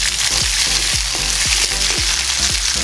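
Chopped red onion sautés with light-brown garlic in hot oil for a fish sarciado, a loud steady sizzle broken by regular scraping stirs about every half second.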